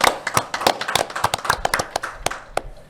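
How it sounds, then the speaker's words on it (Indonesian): An audience applauds in welcome for a circular-economy practitioner at a public event in Ende, Flores. The claps are scattered and uneven, close and fairly loud, with no talking over them. "Tepuk tangan dulu semuanya."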